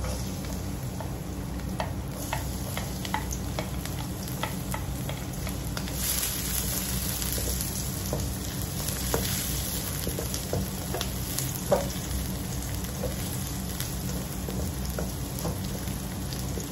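Garlic sizzles steadily in hot oil while frying for igado, a dense unbroken crackle with faint scattered ticks and pops, close and even throughout, no talk.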